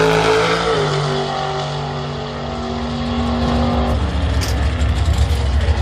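A door-car drag racer at London Dragway drones loudly with a steady engine tone that drops in pitch, suggesting the car pulling away down the strip at a distance.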